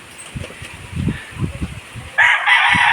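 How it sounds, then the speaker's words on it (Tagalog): A pure white Kelso gamecock rooster gives a single loud crow that starts partway through and holds steady to the end, after a stretch of quieter low background noise. "Pure white kelso mga boss."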